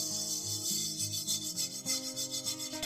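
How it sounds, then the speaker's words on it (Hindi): Flax seeds and white sesame dry roast in a pan, making a close, continuous scraping rustle as they are stirred, with a rhythmic rubbing pulse and no talk. "ये देखिए इसकी आवाज कितनी मजेदार आ रही है, इसलिए ये ड्राई हो गई है, रोस्ट हो गई।"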